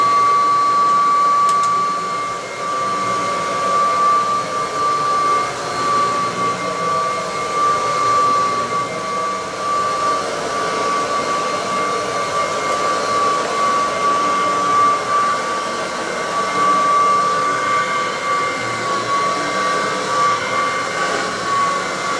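Dual center D80 upright vacuum cleaner running steadily, a loud, close, continuous whooshing airflow roar with a thin high whine on top, unbroken for over twenty seconds with no talking.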